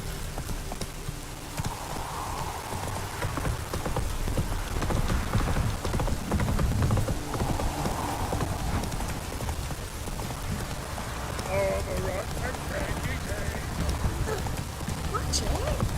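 Roach, the horse in the video game Witcher 3: Hearts of Stone, gallops with steady rhythmic hoofbeats under a busy game soundscape of rain-like noise, with voices speaking over the run.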